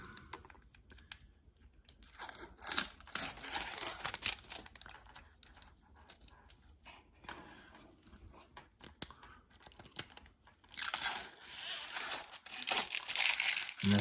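Packaging being torn and ripped off a Eufy smart lock doorbell, with crinkling and tearing bursts near and fairly loud, coming in several surges over a quiet background.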